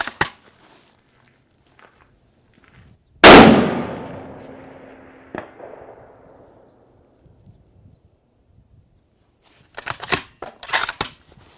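A single loud shot from a Savage 110BA rifle in .338 Lapua Magnum, a sharp blast with a long rolling echo fading over several seconds, followed later by faint clicks and handling noises.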